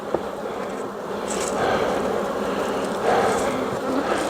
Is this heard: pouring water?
no